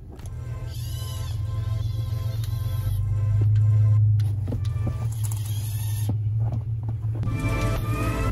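A LEGO snowmobile motor runs outdoors in snow, a steady low drone with thin whining tones above it. It swells louder in the middle of the run, then settles, with no one talking.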